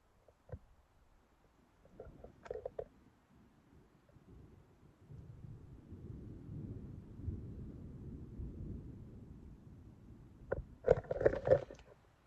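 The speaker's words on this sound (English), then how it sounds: "There's the thunder" Low, rolling rumble of distant thunder at Hobler Lake in the John Muir Wilderness builds and lingers for several seconds, with a few soft clicks and rustles nearby before and after.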